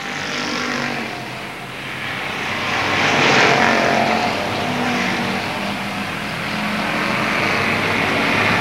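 Stock cars, including a big Impala, race at Avilla Motor Speedway in a 1995 season opener, giving a continuous, loud, broadband engine roar that swells slightly midway and holds steady throughout.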